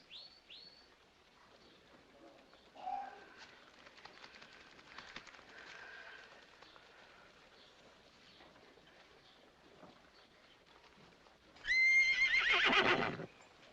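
A horse whinnies loudly near the end after a quiet stretch of faint rustling, hoof sounds and distant bird chirps.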